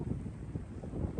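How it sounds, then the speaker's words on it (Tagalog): Strong wind buffeting the microphone during a Tesla road trip from Alberta to British Columbia, a steady low roaring rumble through the whole short moment, alone. "Mahangin ha, hindi ko alam kung naririnig nyo ako."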